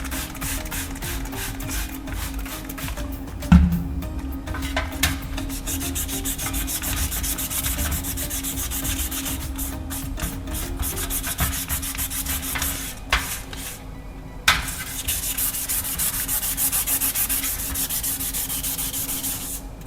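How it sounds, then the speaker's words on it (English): Steady abrasive sanding of leftover glue off a knife, a continuous gritty rubbing that carries on for the whole stretch with a few brief knocks and short pauses, close up and fairly loud. "so I'll keep sanding until they're all gone."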